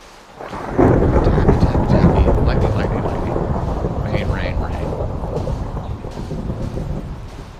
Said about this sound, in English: And it starts to rain.